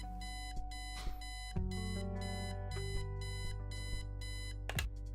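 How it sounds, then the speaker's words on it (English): An obnoxious alarm clock in the video game Kathy Rain beeps in a rapid repeating pattern of short bursts, loud and continuous, alone over a low electronic hum. "Eileen's obnoxious alarm clock. The noise makes me want to stab myself with something dull."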